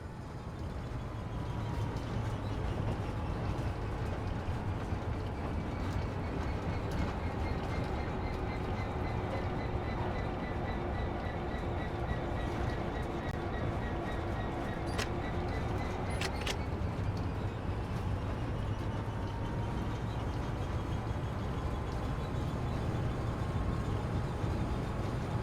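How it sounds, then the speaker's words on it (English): A train in a railway simulator game rolls along steadily, with a constant low rumble and rail noise, faint tonal squeals rising and falling, and a couple of sharp clicks near the middle, with no talk. "Let's bring the train to a gradual stop."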